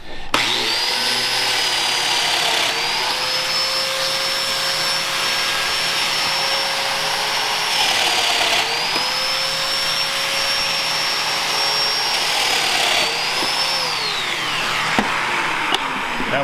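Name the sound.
Festool Domino joiner plunge-cutting a mortise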